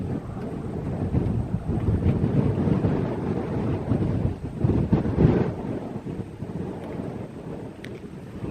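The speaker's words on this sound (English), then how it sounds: "And the wind's picking up, just by the way." Strong outdoor wind gusting steadily against the microphone for several seconds, a dense broadband rush with surges, at a fireworks testing and competition site.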